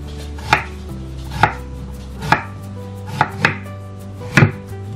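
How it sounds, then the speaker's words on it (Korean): A knife julienning radish on a cutting board, five or six sharp separate chops spaced about a second apart, close and crisp with nothing else heard. "먼저 무는 채 썰어 주시면 되는데"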